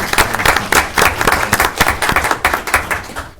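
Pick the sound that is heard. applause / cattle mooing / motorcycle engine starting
applause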